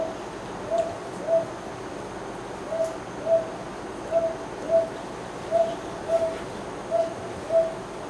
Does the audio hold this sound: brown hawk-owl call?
yes